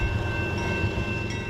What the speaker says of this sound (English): you've had to wait for a train.